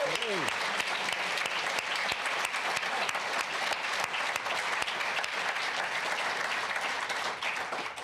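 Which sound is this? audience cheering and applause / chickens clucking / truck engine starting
audience cheering and applause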